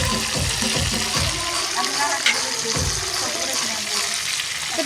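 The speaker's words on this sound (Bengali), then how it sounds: "এখন শুরু হচ্ছে রোস্ট ভাজা শুরু।" Roast chicken fries in a large pot at an outdoor picnic, a dense continuous sizzle and bubbling heard up close, with occasional stirring scrapes and voices talking nearby.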